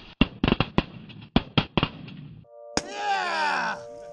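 Shotguns fire while hunting snow geese outdoors: a rapid volley of about eight loud, close blasts, then a pause and excited shouting and whooping from the hunters.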